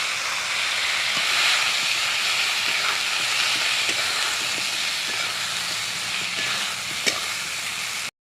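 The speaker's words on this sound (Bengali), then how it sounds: "ব্লুকলিগুলোকে একটু লাল লাল করে ভেজে নেব" Broccoli florets fry alongside already-browned potatoes in an oiled wok, a continuous broad hiss of oil that stays steady and fairly loud throughout, with a few faint clicks and no voices.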